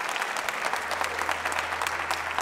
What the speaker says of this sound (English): So let's give a round of applause to her.